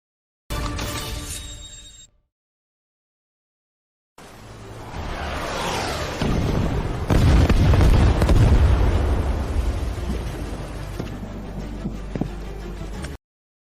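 A bazooka shot erupts into a heavy, rumbling explosion that builds and roars for several seconds, following a brief tonal sound and a moment of silence.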